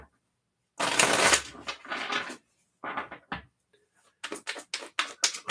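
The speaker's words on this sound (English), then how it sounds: "Just shuffle these up real quick here." Tarot cards are shuffled in quick bursts: a long riffle, a few shorter ones, then a run of rapid snapping riffles, crisp and close with pauses of silence between them.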